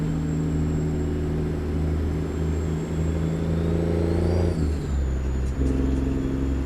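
A large RV with a Detroit diesel and automatic transmission drones steadily in American Truck Simulator, a low, even engine hum with a brief shift in pitch partway through.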